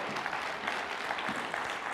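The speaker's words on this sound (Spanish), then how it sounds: "Dale un aplauso a Jesús." A church congregation applauding, a dense steady clapping throughout the short burst, full and close, without voices over it.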